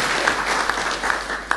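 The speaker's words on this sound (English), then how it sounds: "I think we should applaud him for this very excellent presentation." A short burst of dense audience applause after a presentation, steady and fairly close, with a few sharper individual claps standing out.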